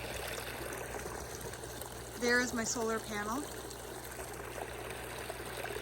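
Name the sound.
trickling water from solar-powered garden water feature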